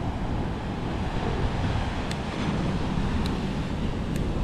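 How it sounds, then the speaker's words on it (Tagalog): Strong wind gusting at a seashore where waves and surf roll in, a steady broadband roar with rumbling wind buffeting the microphone throughout. "Tapos yung hangin niya medyo malakas pa, no."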